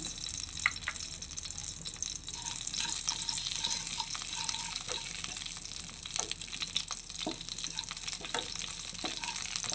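Panch phoron spices frying in hot mustard oil for a chalta pickle, a steady crackling sizzle with scattered pops and spits, close and moderately loud throughout, with no talking.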